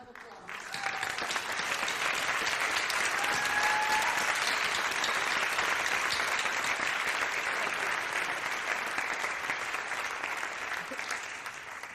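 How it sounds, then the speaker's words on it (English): Audience at a creative writing senior thesis event gives the mentors a sustained round of applause, dense even clapping that holds steady and fades slightly at the end. "Please stand and let's give them a round of applause"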